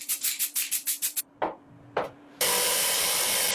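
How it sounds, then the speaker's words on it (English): Spray paint is applied in a protective black coat to a sandblasted bench grinder. A run of short hissing bursts comes first, then two separate spurts, and finally one long steady spray, all close and with no talking. "After sandblasting, spray a protective black coat."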